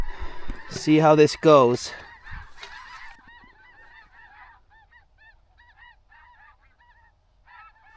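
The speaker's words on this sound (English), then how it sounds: "the snow geese are gonna be the first birds to look at us this morning" Someone speaks briefly up close from a hay bale hunting blind, then a flock of snow geese honks repeatedly in the distance, rhythmic calls continuing faintly on their own.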